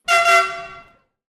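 A single loud air horn blast, bright and brassy, sounding for just under a second with a brief dip near the start before fading out.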